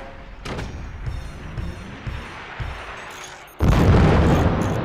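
Weapon fire in the Forts video game, with bullets striking metal armor: a run of dull booms and impacts, then a sudden loud blast near the end that carries on as a dense roar.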